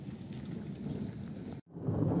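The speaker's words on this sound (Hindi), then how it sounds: "बादलों के गरजने की आवाज़ और हर 2 मिनट में गरज रहे हैं यहाँ पे बादल।" Low rumbling thunder rolls from clouds over the mountains, a steady broad grumble with rain-like hiss, briefly cut off near the end before swelling louder again.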